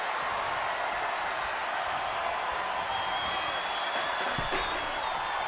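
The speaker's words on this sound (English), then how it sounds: "The fans are cheering." Wrestling fans cheer at a live WrestleMania event, a steady, broad crowd roar with scattered whoops and a few sharper shouts near the end.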